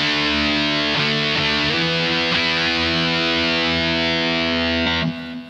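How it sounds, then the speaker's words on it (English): An electric guitar played through an Electro Harmonix Pitch Fork pedal with the effect bypassed gives a loud, continuous distorted tone with a few chord changes, cutting off near the end. "it's actually a distorted sound."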